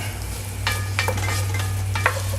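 A roux stirred in a pot over low heat: soft repeated spoon scrapes over a steady low hum and gentle sizzle, close and continuous.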